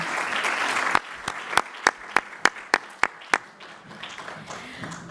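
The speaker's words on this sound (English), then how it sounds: "Another round of applause, ladies and gentlemen." An audience applauds at a 2023 peace symposium: a dense burst of clapping that thins into a handful of separate, evenly spaced claps that fade out.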